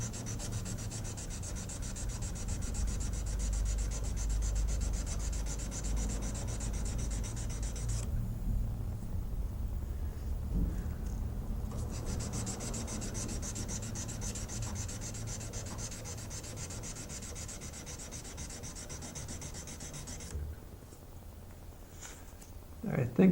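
Hand sanding the ricasso of a mostly soft-steel knife blade: long, even rubbing strokes repeating close up, with brief pauses, under a quiet talking voice.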